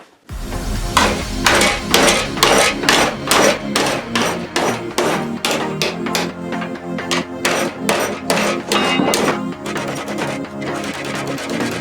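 Rapid, steady hammer blows ring out on a metal license plate being flattened, loud and close, continuing in quick succession throughout.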